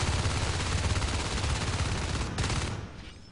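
Shotgun fire erupts in a Rainbow Six Siege esports match, a dense, loud, sustained barrage of overlapping blasts that thins and fades in the final second.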